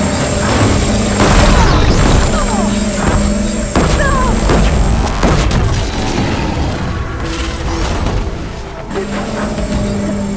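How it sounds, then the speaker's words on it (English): Heavy booming cannon blasts fire repeatedly over dense, loud gameplay noise from Horizon Forbidden West, with rumbling engines and scattered bursts, continuous and close throughout. "We can use our cannons!"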